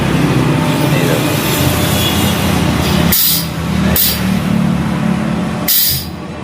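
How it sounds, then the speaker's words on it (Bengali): A pneumatic grease gun greases the pins on a truck, giving a loud, steady compressed-air hiss that stops briefly three times with sharp bursts as it cuts in and out, close by. "আর এই আমাদের মিস্ত্রি এ গাড়ির পিনগুলোতে গ্রিজ করছে"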